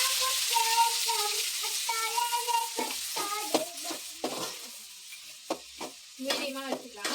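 Ground onion paste sizzles steadily in a hot pan for a coriander chicken gravy, with repeated scraping stir strokes that grow more frequent and pronounced in the second half, close and moderately loud.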